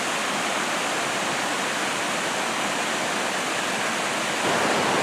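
Potato River Falls in Wisconsin pours as a steady, dense roar of falling water, loud and continuous throughout with no voices.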